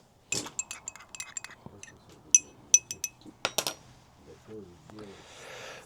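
A small glass cup clinks repeatedly at a German country house during a grape and apple harvest, giving sharp, bright taps in an irregular series, some ringing briefly, with a few lower knocks and a faint rustle near the end.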